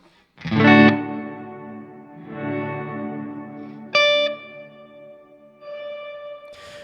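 Electric guitar played through a Big Sky reverb pedal set to maximum: a few struck chords and single notes, each swelling into a long, washy tail that keeps ringing and overlapping the next, loud and close.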